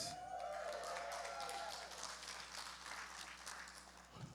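Crowd at an adult talent show applauding and cheering, a steady wash of clapping and shouts filling the room throughout, with a brief whistle-like tone early on.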